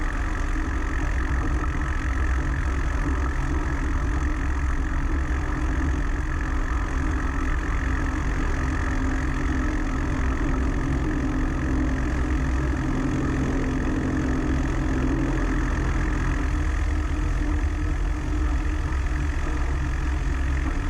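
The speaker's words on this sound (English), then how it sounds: "Cherokee 7428 Romeo, taking off runway 19, straight out departure" Piper Cherokee light airplane engine during a takeoff roll on a runway, a loud, steady droning hum that continues without a break.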